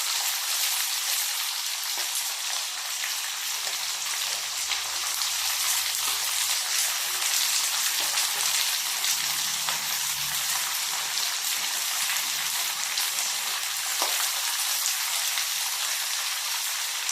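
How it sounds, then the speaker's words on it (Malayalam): Tamarind pickle ingredients sauté in a pan with a constant, fairly loud sizzling hiss and a few faint clinks, with no talking. "എല്ലാം നന്നായിട്ടൊന്ന് വഴറ്റിയെടുക്കാം. ഇത് ജലാംശമൊക്കെ ഒന്ന് വറ്റട്ടെ."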